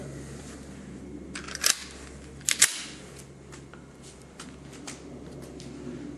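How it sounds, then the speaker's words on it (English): Two sharp shots from a Sig P238, a small 1911-style .380 pistol, crack out at an outdoor range over a steady low background hum. "I'm actually going to shoot the Sig first, and then I'll shoot the Smith & Wesson."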